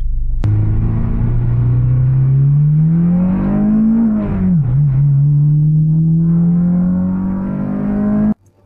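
Acura RSX four-cylinder engine and exhaust manifold pulling steadily while driving, loud and close, pitch climbing gradually, dipping briefly midway, then rising again before cutting off abruptly.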